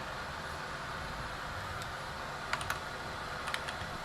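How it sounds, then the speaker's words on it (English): Keys clack on a computer keyboard in short scattered bursts of a few taps each, fairly quiet and close over a steady room hiss, with no one talking. "I'm just gonna start typing"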